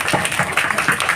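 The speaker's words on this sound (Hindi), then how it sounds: "जोरदार हाथ ताली" An audience at a Christian sermon bursts into loud, close, dense applause, a brief crackling wash of many hands clapping.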